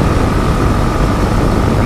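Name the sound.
wind noise while riding a motorcycle at night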